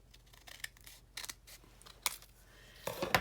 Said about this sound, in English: it's just a smidge too big, so I'm going to cut off an edge